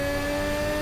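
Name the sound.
Formula Hybrid X Evo 2022 race car accelerating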